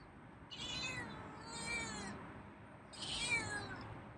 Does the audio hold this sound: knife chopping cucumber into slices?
no